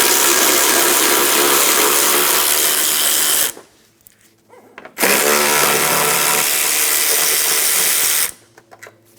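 A power tool runs on the 10mm bolts atop the headlight of a 2007-2012 Nissan Altima, two loud sustained whirring bursts of ratcheting mechanism separated by a short quiet pause, with a brief restart at the end.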